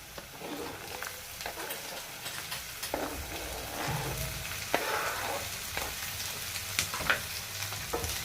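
Cut ivy gourds tossed into a pan of frying onions, giving a steady close sizzle with occasional stirring scrapes and clinks, moderately quiet, without talking.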